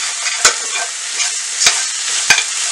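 Onions, tomato and soya chunks sauté in a pan under a loud, even sizzle, with three sharp spatula knocks against the pan spaced across the stretch, close and with no talking.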